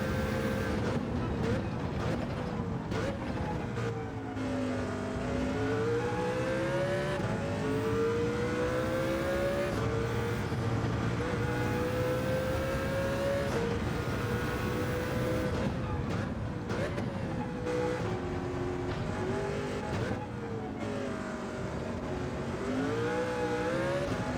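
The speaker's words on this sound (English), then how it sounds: "Past the stunning sounding engine of the other Mercedes." A Mercedes race car engine in Gran Turismo 7 roars steadily and loudly for the whole stretch, its pitch climbing and dropping through gear shifts as the car runs at speed, with a passing engine blending in and a voice talking over it.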